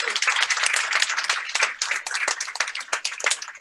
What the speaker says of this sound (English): All right, another round of applause for everyone.